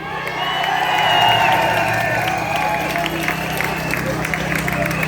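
Large outdoor crowd at an anti-vaccine-passport rally in Dublin cheering and applauding, with sustained clapping, whoops and shouts filling the space at steady loudness throughout, under a dense babble of voices.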